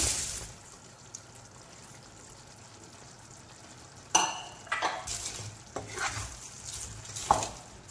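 Indian mackerel pieces added to a pan of onion pickle and stirred, with scraping spoon strokes and clattering bursts over a soft, steady sizzle, close by and with no talking.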